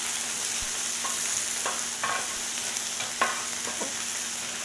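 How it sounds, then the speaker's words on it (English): Pork belly stir-fries in a hot pan for noodles, a steady loud sizzle running throughout with a few scraping stirs of the utensil and no voices. "Just stir fry this."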